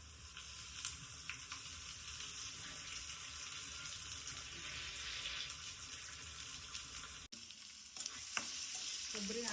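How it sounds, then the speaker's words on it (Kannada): Ground coconut frying in a pan gives a steady, close sizzle with occasional stirring scrapes, briefly cut off near the end before resuming, with no voices. "ಕೊಬ್ಬರಿ ಹಾಕಿ ಚೆನ್ನಾಗಿ ಫ್ರೈ ಮಾಡ್ಕೋಬೇಕು"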